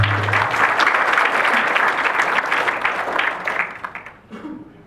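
An audience at an inspirational talk gives a full round of applause that stays dense and even, then fades into scattered claps and quiet near the end.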